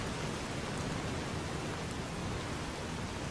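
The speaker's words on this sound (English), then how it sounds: "It's still raining out." Steady rain pours in the post-apocalyptic game Fallout: New Vegas, a dense, even hiss of falling drops with a low rumble beneath, unbroken and without speech.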